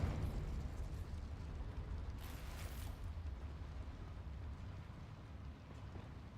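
A Confringo fire blast spell in Hogwarts Legacy goes off as a loud, sustained roaring whoosh of fire, with a brighter crackling burst partway through before it settles into a dense rumble.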